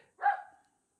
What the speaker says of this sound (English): So sorry about my dog who's barking in the background.